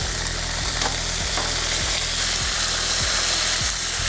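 Lamb chops sizzle loudly and evenly on a Blackstone griddle, close up, with a low rhythmic hum and faint scraping as they are turned over.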